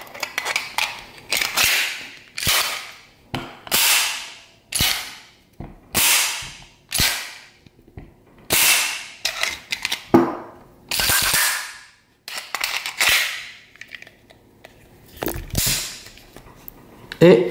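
Para Ordonnance P14 .45 ACP pistol worked by hand with its magazine in place: a long run of sharp metallic slide racks and clicks, each loud and close, about a second or so apart, with short pauses between.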